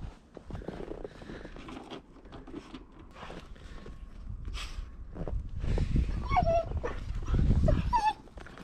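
A dog close by whimpers and lets out high, excited yips amid rustling movement.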